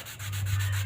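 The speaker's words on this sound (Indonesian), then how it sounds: "jadi kita haluskan pakai amplas nomor 240 teman-teman" Sungkai wood being smoothed with 240-grit sandpaper, a steady close rasping rub with rhythmic strokes, continuous and fairly loud with no voices.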